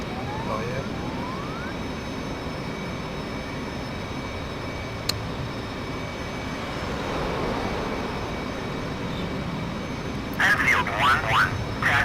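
Jet aircraft engines roar in a steady, loud drone around an aircraft carrier in a flight simulator game, with a sharp click partway through and brief crackling radio bursts near the end.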